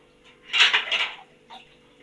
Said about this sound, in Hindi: और ये सारे बर्तन धो लेंगे हम इधर